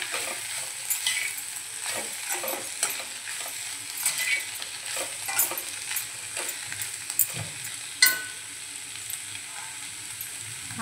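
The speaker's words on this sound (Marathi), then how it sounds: "कोथिंबीर घालूया आणि छान एकजीव करून घेऊया।" Boiled potato bhaji with fresh coriander stirred in a pan, giving a continuous bright sizzle with repeated spatula scrapes. One sharper knock comes near the end; no talking.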